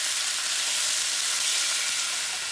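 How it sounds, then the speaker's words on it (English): Steady, close sizzling of chicken pieces frying in hot oil in a pan, a continuous bright crackle with no voices. "So I'm just frying up the chicken."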